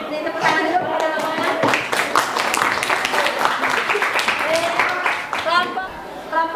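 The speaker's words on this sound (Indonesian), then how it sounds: "Ini tepuk tangan dulu kepada kelompok" A class of pupils clapping together for a student group in an Indonesian school lesson, a dense, steady patter of many hands with voices chattering over it throughout.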